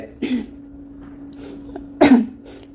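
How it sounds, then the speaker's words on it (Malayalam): Two short coughs from a person with a sore throat, close by and separated by a quiet pause with a faint steady hum underneath. "എനിക്ക് ആക്ച്വലി ഭയങ്കര തൊണ്ടവേദന അതുപോലെ ചുമയൊക്കെയുള്ള കാരണമാണ് ഇങ്ങനെ ഭയങ്കര ഡിസ്റ്റർബൻസ് വരുന്നത്"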